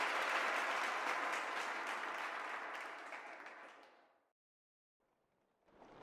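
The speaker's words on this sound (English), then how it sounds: "Clap, clap, clap, clap, clap, clap, clap." A video game crowd claps steadily and densely, then the applause fades away into silence before a brief burst of sound returns at the end.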